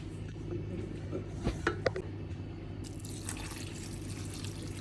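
Salted vinegar dribbles and drips into a container of Indian gooseberry pickle amid steady background hum and faint clatter.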